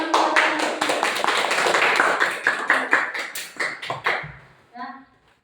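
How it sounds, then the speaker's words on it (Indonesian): A class of children claps hands in a quick, dense burst of slaps that thins out and fades, with a brief voice near the end. "Oke, tepuk tangan."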